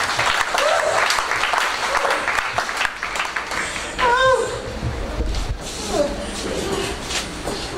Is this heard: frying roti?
no